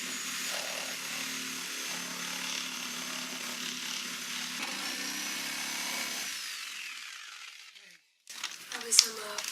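A wooden CLC Eastport Nesting Pram sailboat is cut in half with a power saw, which runs steadily for several seconds, stops, then gives a few sharp clattering knocks.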